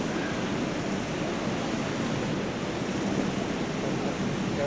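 Steady roar of ocean swell and surf churning inside the Hole in the Rock sea cave on Motukokako Island, New Zealand, broad and continuous with no talking.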